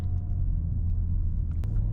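A 2023 BMW M3 Competition pulls along in second gear, its engine a steady low rumble with road noise, close and continuous with no talking.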